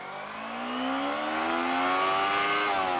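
A motorcycle accelerates in first gear, its engine note climbing steadily in pitch and loudness with a smooth, rising harmonic whine and no break.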